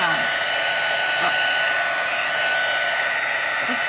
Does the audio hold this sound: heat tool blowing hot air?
yes